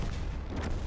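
Tank gun shot in the World of Tanks video game, a single heavy booming blast with a rumbling low tail, loud and close, heard briefly without talking.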